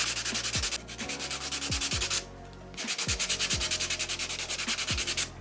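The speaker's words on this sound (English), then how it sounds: "I'm just gonna use this bigger nail file." A large nail file rubbed rapidly back and forth over acrylic nails, close and steady rhythmic rasping strokes with one short break midway, no talking.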